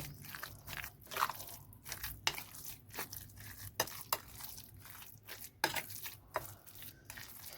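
Minced chicken kebab mixture with ground mint-leaf paste and salt is worked over by hand in a bowl: soft, wet squelching and irregular crunchy pats and slaps recurring every second or so, close up, with no voices.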